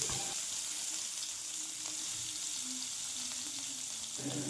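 Mustard seeds spluttering and crackling in hot oil in a kadai, a soft continuous sizzle with faint pops, heard alone without voices.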